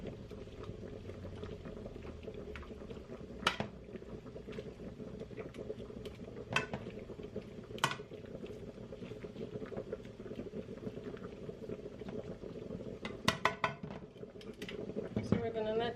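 Chicken stir fry with green beans simmering on high heat, a steady bubbling boil with scattered clicks and knocks of the pan, quiet and close, with speech faint underneath.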